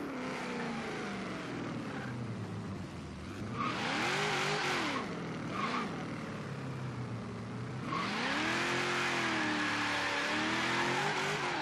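Engine of a V8-swapped Nissan 350Z drag build in Forza Horizon 3, revving loudly during a brake-boost launch, with rising and falling rev sweeps and bursts of roaring acceleration.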